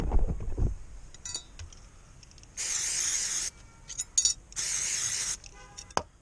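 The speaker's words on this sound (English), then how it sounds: "Some more brake cleaner on that as well." Brake cleaner sprayed onto a front brake caliper in two sustained, close hissing bursts of about a second each, separated by quieter handling clinks.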